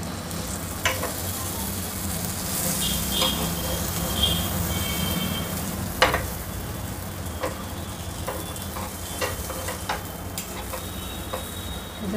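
A cheese taco roasts on a hot pan with a continuous low sizzle, punctuated by occasional taps and scrapes as it is turned and pressed, with no talking.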